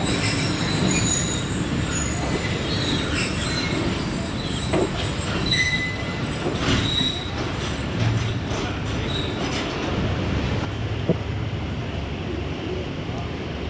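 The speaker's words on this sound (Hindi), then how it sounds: "डिपार्चर हो गया 48 डाउन रहमान बाबा एक्सप्रेस का झेलम रेलवे स्टेशन से" The Rehman Baba Express pulls out of Jhelum railway station from platform 2 after a short stop, with wheels squealing and carriages rumbling under a busy, continuous platform din.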